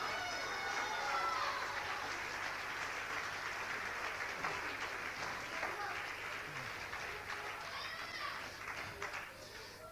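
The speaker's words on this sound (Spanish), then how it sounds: "Dale el aplauso a Cristo, que Él se lo merece." Congregation applause during a Spanish-language church sermon, a steady wash of clapping lasting the whole stretch, fairly distant and even, with children's voices mixed into the crowd.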